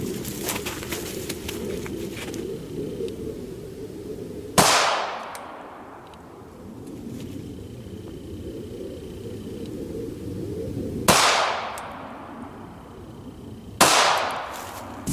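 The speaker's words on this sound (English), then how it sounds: "I'm going to basically just shoot it through the front, and we'll see how it goes. 3 rounds for the P2000." Three loud 9mm shots from a P2000 pistol firing Goldensaber 147 grain rounds, spaced unevenly with the last two closer together, each ringing out and fading while birds coo softly in the background.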